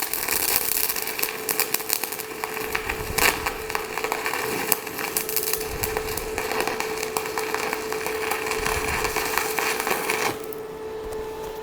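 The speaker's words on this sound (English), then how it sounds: "hopefully it's clean enough that we can get some welds going here" Stick (MMA) welding with a Sefaspe MMA205SE on wire-wheeled scrap metal: a steady crackling, sizzling arc with irregular sharp pops, continuous for about ten seconds before cutting out to a faint hum.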